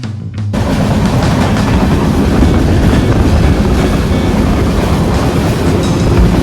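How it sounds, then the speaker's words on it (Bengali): Tamralipta Express 12857 pulling into Digha railway station, a loud steady rumble of rolling wagons and broadband track noise after a brief quiet start, with some wind buffeting. "দীঘা রেলওয়ে স্টেশনে ট্রেনটি সঠিক সময় কিন্তু প্রবেশ করছে"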